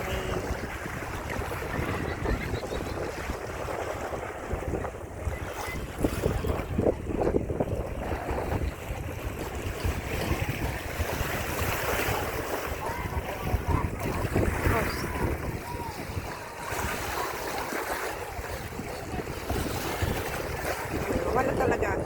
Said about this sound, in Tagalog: Mahangin na, kaya pasensya na guys kung mahangin.